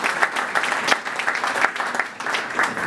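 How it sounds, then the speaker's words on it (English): An indoor audience at a mayors' tribute event claps in a steady, dense round of applause, close and loud for a few seconds without talk. "let's give Mickey Ibarra another big round of applause"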